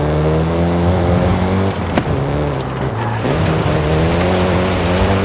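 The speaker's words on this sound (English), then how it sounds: "including the Golf GTI you're driving right now" A Volkswagen Golf GTI engine drones loudly and steadily while driving in Forza Horizon 5, its pitch dipping at a gear shift and then climbing again.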